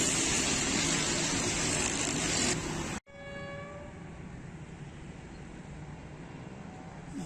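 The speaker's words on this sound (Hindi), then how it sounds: "ये कौन सी ट्रेन आ रही है इसका मुझे नहीं मालूम।" An express train rumbles past close by on a railway bridge in Rawalpindi, Pakistan, with loud, steady rushing noise, breaks off abruptly, then continues with a distant horn and lighter rail rumble.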